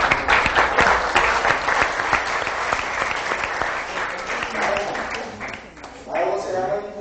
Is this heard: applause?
yes